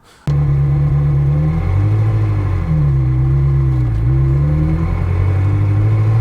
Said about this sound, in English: You can see where I'm driving and I'm going from first, pull it into second.